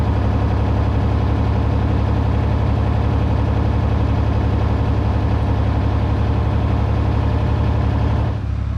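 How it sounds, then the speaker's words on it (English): A farm tractor with a weak battery idles steadily nearby, its loud, constant low engine drone holding unchanged for about eight seconds before a brief dip at the end. "I've got the tractor running over there, the battery's kind of weak on it."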